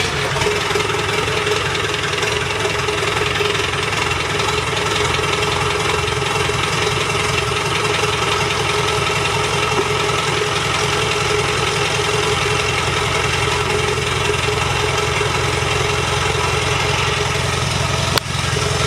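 A Land Rover Defender 110 Overlander engine runs with no exhaust fitted, giving a steady, loud, rough idle with a constant mechanical drone and knocking rattle throughout, close by and alone with no talk.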